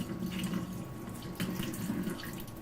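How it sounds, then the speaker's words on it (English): Juice from canned tomatoes draining into a kitchen sink, a continuous splashing pour of liquid, steady and close at moderate level, with no talking. "drain the juice out."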